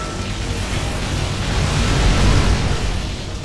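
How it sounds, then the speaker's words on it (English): An explosion in the shooter game Sine Mora EX, during a robot boss fight, rolls out as a heavy, deep rumbling boom that swells and lingers for several seconds, with no talking. "That explosion was mean."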